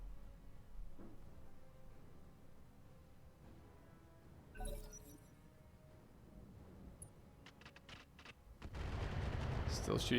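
Mech weapons fire in Battletech crackles in scattered bursts, faint at first with a sharp report midway, then a louder rattling volley and rumbling impacts near the end.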